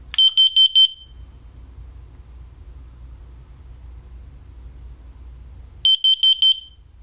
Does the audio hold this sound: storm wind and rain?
no